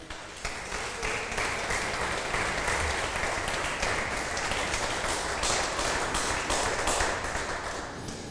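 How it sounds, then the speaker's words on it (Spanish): A church congregation claps together in praise, a steady dense wash of applause that holds at an even level from start to finish with no voices standing out. "Un aplauso al Señor."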